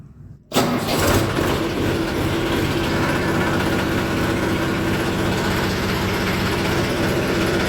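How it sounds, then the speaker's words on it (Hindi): A Massey Ferguson tractor's diesel engine cranks and catches after a brief quiet start, then settles into a loud, steady idle that runs unbroken to the end. "ट्रैक्टर स्टार्ट है मैं इसी को।"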